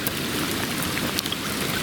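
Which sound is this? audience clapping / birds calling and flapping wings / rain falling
rain falling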